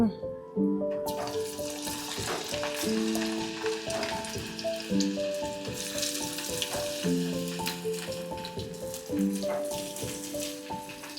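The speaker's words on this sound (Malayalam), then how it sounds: "കോളിഫ്ലവർ ഫ്രൈ നമ്മൾ ഫ്രൈ ചെയ്തെടുത്തിട്ടുണ്ട്" Cauliflower pieces sizzle quietly in oil in a pan, a soft, steady frying hiss with scattered crackles, partly covered by background music with a repeating melody.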